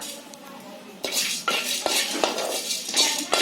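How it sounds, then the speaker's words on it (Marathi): Black pepper, cumin and ajwain dry-roasting in a hot pot, stirred with a metal spoon that gives a handful of close, sharp scrapes and clinks and rattling of the seeds after a quiet start. "आता टोप गरम आहे ना त्याच्यामध्ये काली मिरी थोडं थोडं आपलं जरासं गरम करून घ्यायचं"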